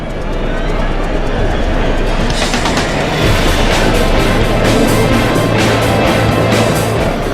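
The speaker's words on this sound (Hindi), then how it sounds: "कभी अप लाइन से कोई ट्रेन आती है तो अगले ही पल डाउन लाइन से छुक छुक करती दूसरी" Trains run along railway tracks, a loud, steady rumble and roar that swells and carries rhythmic rail noise throughout, filling the whole stretch with no voices.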